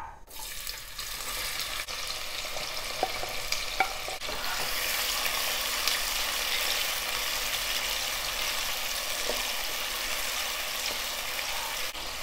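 Two thinly sliced onions go into hot oil in a pan for tomato rice, setting off a loud, continuous sizzle that stays steady throughout, with occasional stirring scrapes.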